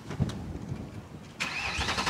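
A Mercedes-AMG car engine cranks and catches partway through, settling into a steady running hum against low background noise.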